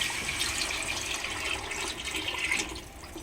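Fish curry (chepala pulusu) liquid being poured into a pan, a continuous close splashing, gurgling stream that holds steady for several seconds.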